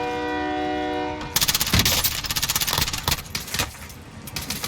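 A video game train sounds a sustained multi-tone horn, then rumbles past close and loud with rhythmic clattering wheel beats that gradually fade.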